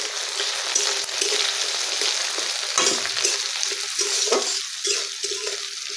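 Sidol, a fermented fish paste crumbled with water, goes into hot oil over fried spice tempering with dried chilli and cumin, giving a loud close sizzle and spitting crackle that gradually settles.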